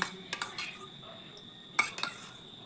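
A spoon clinks against a mixing bowl while heaped spoonfuls of sour yogurt go onto semolina, giving a few sharp metallic taps in two brief clusters over quiet kitchen background.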